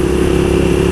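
A Suzuki SV650S motorcycle engine runs steadily while riding, a loud, close, even drone for under a second.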